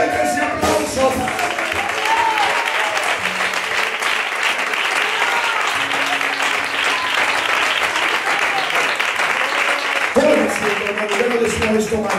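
A church congregation bursts into sustained applause after a prayer, dense clapping filling the room at a loud, steady level for over ten seconds, with a voice faintly audible near the end.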